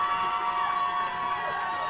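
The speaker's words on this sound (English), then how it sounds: "Crowd getting loud right now." Spectators at a high school football game grow louder, a continuous wash of cheering and shouting voices at a moderate distance, steady throughout with no single standout call.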